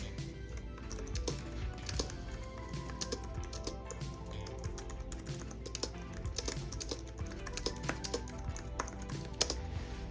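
Continuous typing on the keyboard of a Mantis Q40 braille display, a steady stream of close, crisp key clicks lasting throughout with no talking.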